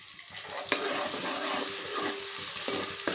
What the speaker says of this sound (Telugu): టమాటా ముక్కలు మగ్గాలి